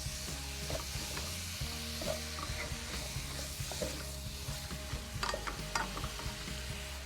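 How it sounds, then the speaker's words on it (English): Cubed beef shoulder or chuck stirred into a pan with spices and onions for a Sri Lankan curry, a steady close sizzle of frying under scraping stir strokes, with no talking. "Give it a really good mix."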